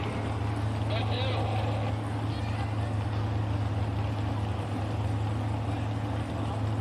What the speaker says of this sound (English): getting set to go with the half-lit Ford single-engine modified tractor, alcohol-powered V8